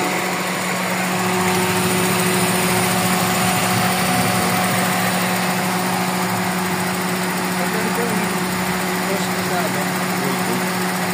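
A Toyota Corolla 4AFE engine idling steadily after heavy preventive maintenance, a constant close hum and buzz with a faint whine, running unbroken while people talk over it.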